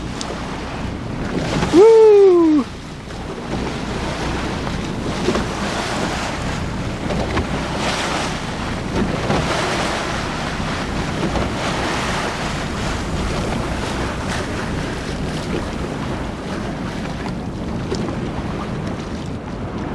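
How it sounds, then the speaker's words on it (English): Waves from a passing cruise ship wash and roll steadily for the whole stretch in Blackfish Sound, mixed with wind noise on the microphone, after a brief excited shout near the start. "comes the cruise ship waves"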